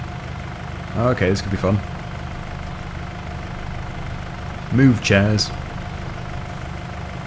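A utility tractor engine idles and rumbles steadily while being driven through a garden, with someone speaking briefly over it twice.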